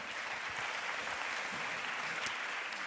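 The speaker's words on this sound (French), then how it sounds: "Ah oui, applaudissons." An audience at a talk on data and media applauds, giving soft, steady clapping that sounds somewhat distant and fairly quiet.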